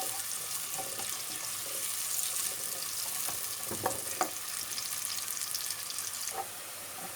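Onions frying in oil inside a pressure cooker over a full flame give a steady, close sizzle with a few brief scrapes and clicks of stirring.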